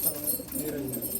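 Pigeons at a loft coo in soft, low, throaty bursts, close by and continuous through a brief moment, with no talk over them.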